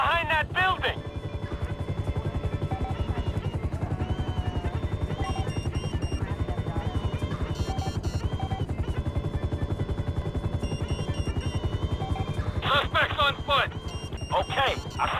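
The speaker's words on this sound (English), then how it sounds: "Okay, I see the chopper." A helicopter flies in the GTA 5 video game, a steady rhythmic rotor chop throughout at moderate volume, with voices talking over it at the start and end.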